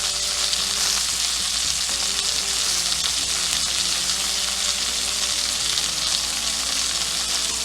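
Butter and rosemary sizzle loudly around a New York strip steak searing in a pan, a steady dense crackle of frying that runs unbroken throughout with no talking.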